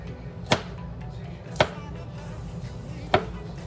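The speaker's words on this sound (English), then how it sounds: "we're going to take 4 cloves of garlic here and we're going to cut it up" A big knife chops garlic cloves on a cutting board, giving three sharp, separate thuds against a quiet background.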